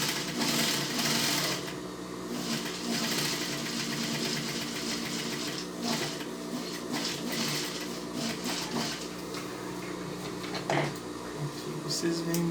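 A sewing machine stitches and finishes a seam on a test garment, a steady close mechanical whirr running throughout while someone talks over it.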